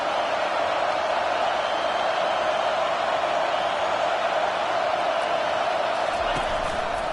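A stadium crowd at a football game keeps up a continuous, loud roar, a dense wash of voices that holds steady throughout.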